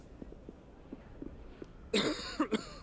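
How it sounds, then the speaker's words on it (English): In Final Fantasy XVI, after quiet faint ticking, a person coughs a few times in quick succession, loud and close. "I recognize that coughing"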